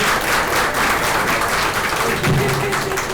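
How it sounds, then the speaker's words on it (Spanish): An audience applauds the facilitators at the close of a session, loud continuous clapping from a crowd filling the whole stretch, with a faint voice near the end. "Un fuerte aplauso."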